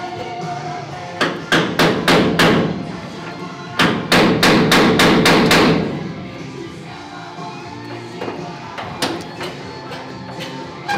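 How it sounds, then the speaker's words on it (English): Hammer blows on VW bodywork in a workshop ring out in fast bursts of sharp metallic strikes, separated by short pauses, loud and close. "I'd say today's a loud one, there's lots of grinders and hammers."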